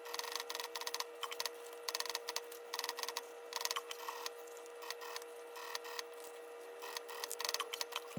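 A sewing machine stitches fabric for a heart-shaped box pouch, a fast steady mechanical chatter in short bursts with brief pauses, close and fairly quiet.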